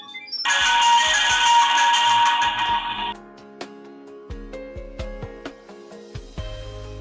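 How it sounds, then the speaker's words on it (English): A D8809 security camera plays a configuration music tone during setup: a loud, bright electronic warble for about three seconds, then a series of short melodic beeps and notes, with no voices. "During configuration camera will produce music sound."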